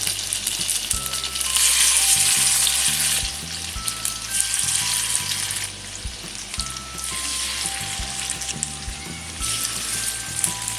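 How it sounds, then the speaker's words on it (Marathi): Marinated chicken frying in hot oil over a medium gas flame gives a loud, steady crackling sizzle throughout, rising and falling slightly, with a low background hum and no voices. "तेल आपलं गरम झालेलं आहे आणि हे आपण आता सोडूयात मध्ये"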